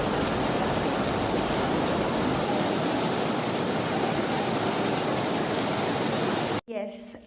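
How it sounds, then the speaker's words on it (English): Heavy rain pours down steadily as a dense, even hiss that stays loud and unbroken for several seconds, then cuts off abruptly near the end, where a voice briefly breaks in. "Hey, see, it's raining heavily now."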